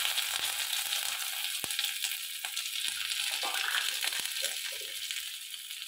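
Whole spices and turmeric sizzling in hot oil for a Bengali neem stem curry: a steady bright hiss and crackle with scattered small pops and stirring clicks, close and fairly quiet.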